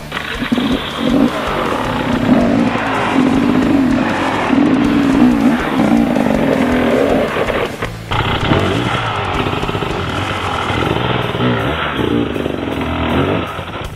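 An enduro motorcycle revs steadily as it climbs up onto a rock during off-road training, its engine loud and continuous and close by throughout, with a brief dip partway through and no speech.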